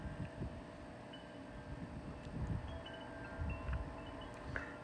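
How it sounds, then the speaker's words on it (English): Gusty outdoor wind buffeting a microphone, low rumbling swells that rise and fall irregularly over a few seconds, with faint scattered ticks in the background and no talking. "we're getting some good gusts right now"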